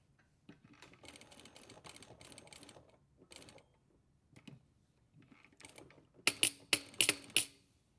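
A sewing machine stitches a reinforced triangle at the top of a flap and spade pocket, heard as short bursts of rapid mechanical stitching separated by pauses, ending in a louder, sharper run of clattering stitches.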